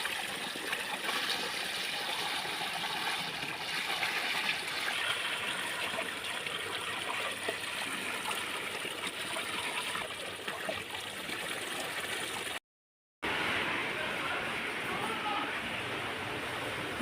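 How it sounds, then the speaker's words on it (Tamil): Fish being washed with soap under running water, a steady broadband gush and trickle that continues nearly unbroken at close range, with a brief dropout near the end. "மீன் சோப்பு போட்டு குளிப்பாட்டுறேன்"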